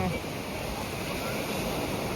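Sea waves on the Konkan coast make a steady, loud roar of surf with wind rumble, continuous throughout and heard close by.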